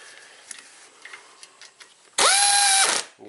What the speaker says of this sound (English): So now just going through torquing all the bolts down.